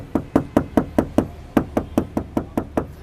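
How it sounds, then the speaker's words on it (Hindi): Knuckle knocks on an undamped car door panel of a Toyota Fortuner Legender, about a dozen sharp hollow raps in an even quick rhythm, close and loud with a short pause midway, no talking. "So this door is done without any damping. तो मैं जब नॉक कर रहा हूँ"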